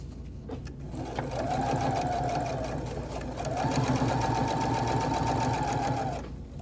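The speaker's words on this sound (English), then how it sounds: "all that's left to sew really is the top edge there" A sewing machine stitches along the top edge of a wrap skirt in two close, steady runs of rapid needle clatter separated by a short pause.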